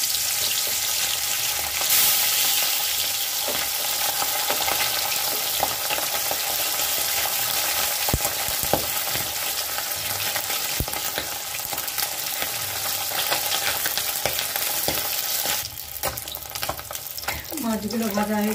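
Fish sizzling in hot oil, a loud, dense, unbroken frying hiss with crackles throughout and a few sharper spits near the end.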